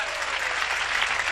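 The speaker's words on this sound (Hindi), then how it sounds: "एक बार तालियां बजा दे दोस्तों, मैं शुरू होता हूं।" Audience at a Hindi poetry recital clapping together, a dense, even burst of applause lasting just over a second with no break.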